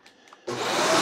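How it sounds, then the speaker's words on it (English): A Shark AZ3002 Stratos upright vacuum cleaner switches on abruptly after a quiet moment, its loud motor roaring steadily and rising slightly. "Now, if you turn the vacuum cleaner on with it in the upright position,"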